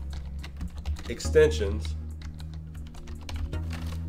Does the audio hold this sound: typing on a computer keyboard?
yes